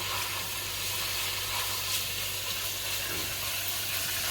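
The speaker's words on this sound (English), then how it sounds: "So I'm just going to put the ketchup in. Gonna let this fry for a little bit here." Ketchup fries in a pot for stewed lentils, giving a faint, steady sizzle with soft bubbling and stirring, and no voices.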